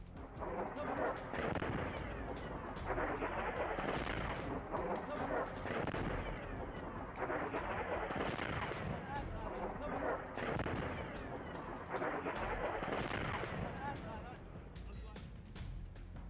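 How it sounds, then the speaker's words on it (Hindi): Repeated heavy, rumbling missile explosions roll one after another, loud and dense, with booming bursts and crackling debris filling the whole stretch. "फिर एक के बाद एक कई भीषण धमाके होते हैं"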